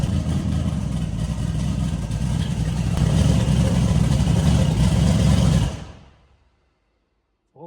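A twin turbo big block engine in a Ford Fairmont roars loud and close for several seconds, steady and heavy, then abruptly cuts out and dies away into near silence.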